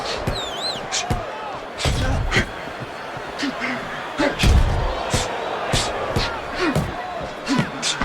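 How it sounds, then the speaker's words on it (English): Heavyweight boxing bout between David Tua and Danny Williams: sharp punches land in a quick series of thuds and slaps over a roaring arena crowd. "Solid counterpunch by Willis."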